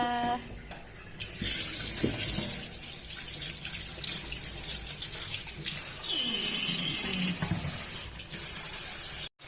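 Dishes being washed under a running kitchen tap in a sink while cooking for children, a steady rush of water with splashes and clatter throughout, loud and close.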